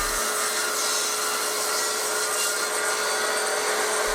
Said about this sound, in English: Then I could trim the top of the mallet flush with the table saw.